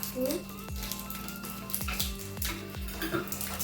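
Chopped onions sizzle in a hot pan, with a steady frying hiss broken by several sharp clinks and scrapes of a spoon stirring against the metal.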